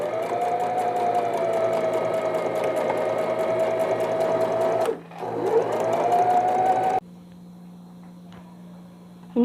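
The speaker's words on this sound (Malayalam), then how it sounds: "ഇനി ഷോൾഡർ സ്റ്റിച്ച് ചെയ്യുക." A sewing machine stitches the shoulder seam of a newborn baby's vest, running steadily and loudly with a fast rhythmic whir for about seven seconds, dipping briefly midway, then stopping and leaving a faint hum.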